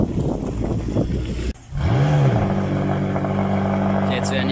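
Cars being driven into a workshop in Munich during carspotting, engines rumbling nearby with a rising rev partway through as one pulls in, under continuous talk.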